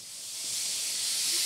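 A smooth wash of bright hissing noise from a white noise generator, steady and continuous, rising a little in level after the start.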